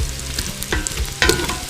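A spoon scrapes and stirs crisping rockfish soup ingredients in a hot pan, with a low steady sizzle and a few sharp scraping strokes close up.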